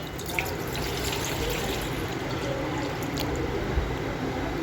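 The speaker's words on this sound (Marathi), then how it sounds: "आता आपण एक टोप घ्यायचं, त्याच्यात एक तांब्या पाणी घालायचं." Water pours steadily from a tap or jug into a cooking pot, a continuous close splashing rush with no one talking over it.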